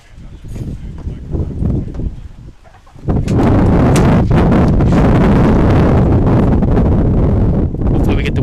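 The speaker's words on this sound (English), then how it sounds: "Yeah, it's definitely a little windy and rainy out today." Gusty wind roars across an outdoor race track during a sudden rain windstorm, buffeting the microphone loudly and steadily after a calmer, quieter opening.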